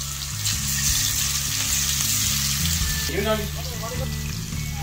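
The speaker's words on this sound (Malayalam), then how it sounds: "നമുക്ക് മീൻ ഒന്ന് ഫ്രൈ ചെയ്തെടുക്കാം" Fish pieces fry in hot oil with curry leaves in a steady, loud, bubbling sizzle with crackles. A voice briefly talks over it near the end.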